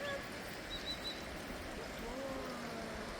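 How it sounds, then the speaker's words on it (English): A nuthatch calls faintly in the background at a quiet outdoor spot beside running water, a few short high piping notes over a steady trickling stream and soft wind. "You can hear a nut hatch in the background"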